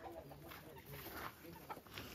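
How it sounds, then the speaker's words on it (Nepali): Chickens clucking softly in a rural farmyard, a faint, scattered background of hen calls mixed with low ambient noise and some indistinct voice-like sounds. "यहाँनिर चाहिँ कुखुरा हो।"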